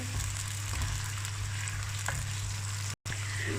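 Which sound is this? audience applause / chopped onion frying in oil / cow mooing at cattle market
chopped onion frying in oil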